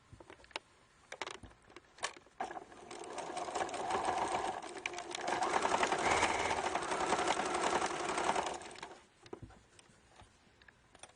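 A sewing machine stitching the turned-in end of t-shirt material shut hums in a steady run that builds up and then stops, with scattered clicks and fabric handling before and after.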